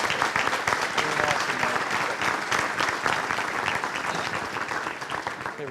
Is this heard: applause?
yes